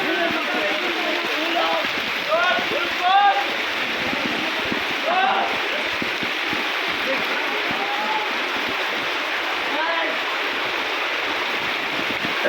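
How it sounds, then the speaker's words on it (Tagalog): Steady rain falls on a deeply flooded city street in Quezon City, giving a constant rushing, splashing wash with occasional brief voices over it. "Tutuloy-tuloy pa rin ang ulan."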